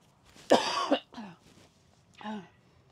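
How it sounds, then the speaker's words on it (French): A few quiet coughs close by: one stronger throaty cough, then two softer ones spaced apart. "Je vais devoir peut-être tousser."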